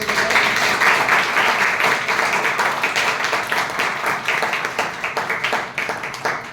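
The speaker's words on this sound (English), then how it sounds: "big round of applause for" Sustained applause from an audience at a district club meeting, dense steady clapping of many hands held at an even level throughout, close and fairly loud.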